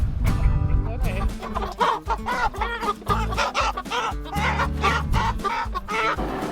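Meat chickens cluck and squawk in a steady, busy chorus close by before butchering, with overlapping calls and some rustling throughout.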